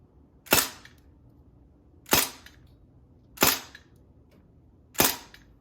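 Four sharp metallic pings spaced about a second apart, BBs hitting a metal target indoors, each a bright ringing hit over quiet background, close and fairly loud.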